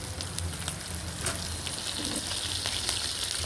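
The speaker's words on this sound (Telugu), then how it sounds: "ఎండుమిర్చి తర్వాత పచ్చిమిర్చి వేస్తున్నాను." Green chillies fry in hot oil alongside garlic and dried red chillies in a tempering, giving a steady close sizzle with light crackles and occasional stirring scrapes, no talk.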